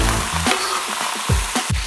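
Strips of poultry sear in a wok for a chicken curry, a loud close sizzle broken by a few quick stirring scrapes and knocks, with no voices.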